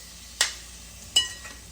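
A spoon stirs fish pieces into an Andhra-style fish gravy curry in a pan, making two quiet scraping strokes about three-quarters of a second apart over a faint low simmer.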